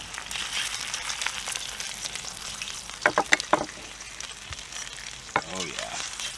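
Full-blooded American Tajima Wagyu steaks sizzle steadily in a non-stick skillet, with a few sharp clicks and scrapes of tongs on the pan partway through.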